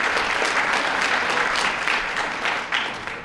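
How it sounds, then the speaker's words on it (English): An audience at a middle school National Junior Honor Society induction ceremony applauds steadily, a dense wash of clapping that stays fairly loud throughout before easing slightly near the end. "clap, clap"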